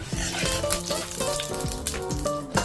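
Pork fat rendering in a hot pan, a steady close sizzle and spatter with a few sharp pops, heard alone.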